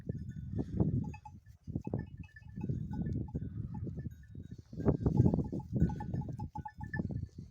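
A herd of goats with newborn kids out on spring pasture, bleating repeatedly and close by, with overlapping cries that come in bursts and brief pauses. No one speaks.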